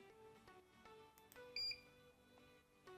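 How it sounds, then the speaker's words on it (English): A brief, faint electronic confirmation beep from a Hakko FX-971 soldering station sounds once, high-pitched and clean, against a quiet room background. "you heard that beep to the station"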